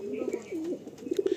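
A breeding pair of Madrasi Kalanka pigeons cooing softly up close, a few rolling low coos repeated in short bursts with faint room noise behind.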